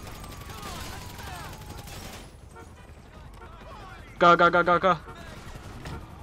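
A rapid burst of about five loud gunshots rings out in GTA Online, following quieter game noise and people talking.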